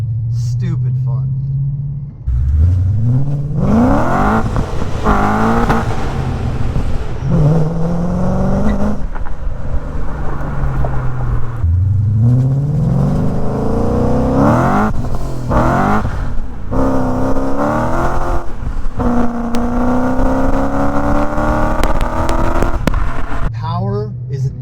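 A BMW E39 M5 with a Supersprint exhaust pulls hard through repeated rising gears, its engine note climbing loud and close before each shift, with a voice talking over the roar.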